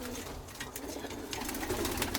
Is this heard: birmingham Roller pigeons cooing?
yes